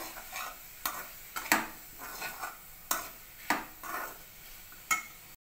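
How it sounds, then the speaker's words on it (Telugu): A spoon is worked through a spiced raw mango and moong dal curry in a pan, giving a series of sharp scrapes and taps against the metal every half second or so over a faint sizzle. "ఇప్పుడు మొత్తం మిక్స్ చేసుకోవాలి"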